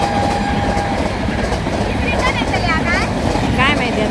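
A Jan Shatabdi passenger train rolls out of Sawantwadi Road station bound for Panvel, giving a steady, loud rumble of wheels and carriages throughout, with faint voices in the background.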